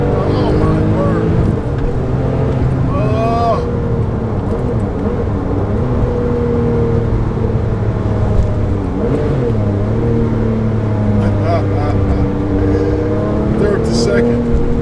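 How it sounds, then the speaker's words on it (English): A Porsche GT2 RS runs with a steady, loud turbo drone and engine rumble that shift slightly in pitch, heard from inside the car. A person talks over it throughout. "You can hear the turbo is just constantly spooling."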